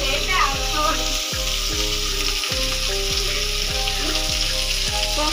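Fish fries in a pan at home with a loud, continuous crackling sizzle, close to the pan, with a rhythmic stirring or scraping pattern running underneath.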